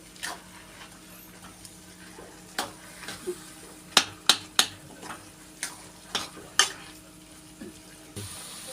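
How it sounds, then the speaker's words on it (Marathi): Carrot halwa with khoa and dry fruits is stirred in a pan, giving a run of sharp scraping clicks and taps at an irregular pace over a faint sizzle, with no talking. "आणि हा जो खवा आहे तो घालू आपण त्याच्यामध्ये। आता हे छान मिक्स करून घेऊ।"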